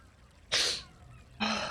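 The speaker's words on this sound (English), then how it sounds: "Oh, I'm gonna sneeze." Two sharp sneezes burst out close to the mic, the first loud and breathy, the second following about a second later.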